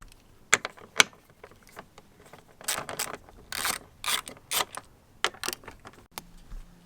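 Two bolts being removed from a 3.6 Pentastar engine, heard as clicking ratchet and tool clatter with metallic jingling in irregular bursts, close by and without speech.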